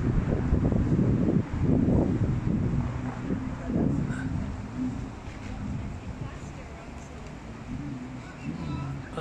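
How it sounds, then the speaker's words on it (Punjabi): Cold winter wind blowing outdoors on a foggy day, a steady broad rushing roar buffeting the microphone, with low rumbling gusts that are strongest in the first few seconds and then settle to a constant hiss. "ਠੰਡੀ ਠੰਡੀ ਹਵਾ ਚੱਲ ਰਹੀ ਹੈ।"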